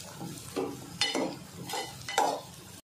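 Coriander is stirred into okra cooking in a pan, giving several close scraping strokes of a spatula over a soft sizzle in a short, rhythmic burst with no talk.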